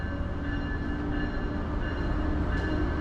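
A Metro-North Railroad engine hauling cars on the Norwalk–Danbury line at Danbury, heard as a continuous loud rumble and rolling clatter that holds steady throughout.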